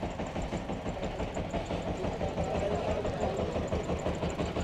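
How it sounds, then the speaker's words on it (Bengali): Fishing trawler engines idle at the Maheshkhali fishery ghat, a steady low diesel throb with a faint rhythmic knock running throughout, moderately distant and without talk. "এই দেখেন এই সব ট্রলারগুলো কিন্তু মাছ ধরার ট্রলার"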